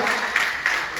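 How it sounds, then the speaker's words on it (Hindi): Brief burst of crowd applause at a Dussehra Shastra Puja event honouring a winning cricket team, dense clapping with a couple of sharper swells over about a second. "जोरदार तालियां बजती रहनी चाहिए"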